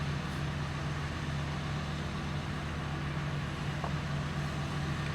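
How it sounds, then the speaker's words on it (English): A Kubota 95 skid steer engine runs at a steady idle, a constant low rumble with a strong hum that holds unchanged throughout, with no voices. "You're on the grapple of a Kubota 95 skid steer right now"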